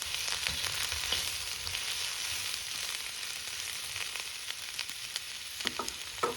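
Onion frying in a kazan gives a steady, moderate sizzle with crackling and occasional stirring scrapes near the end, heard alone without talk.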